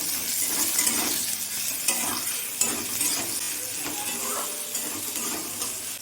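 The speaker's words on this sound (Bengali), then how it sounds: "পেঁয়াজটা আমি ভেজে নেব।" Chopped onion with a pinch of salt frying in oil in a wok, giving a steady close sizzle with occasional utensil scrapes and stirring clinks.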